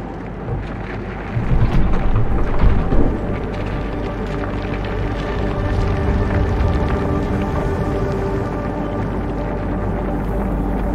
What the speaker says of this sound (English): Keep an eye on that storm.